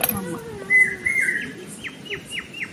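Small birds such as crows, sparrows and pigeons feeding near a rice flour kolam give a few sharp chirps and a run of repeated high tweets, fairly close, over low background rustle and faint talk.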